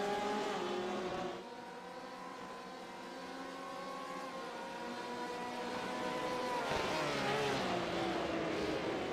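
Several race cars battling closely on a speedway, a black Porsche among them, their engines droning and shifting pitch as they pass and accelerate, steady and moderately loud with no talk.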